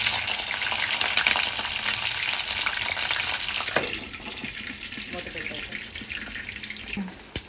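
Green chillies frying in hot oil in a pan make a loud crackling sizzle that drops to a quieter steady hiss partway through, with faint clatter near the end.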